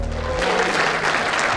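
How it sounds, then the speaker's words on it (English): Spectators at the 2022 World Indoor Bowls Championships applaud on the portable rink, a dense burst of clapping that rises over a fading low hum. "I'm sure everyone's going to give Jack Jenkins a huge round of applause"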